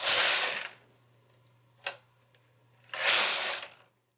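A knitting machine carriage sweeps across to knit a row on a lined slipper, heard as two loud, rushing mechanical passes with a few small clicks between them, close by and without talk.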